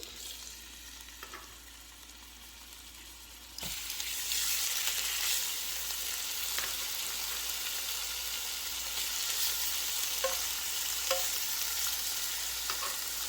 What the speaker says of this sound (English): I love searing the meat first.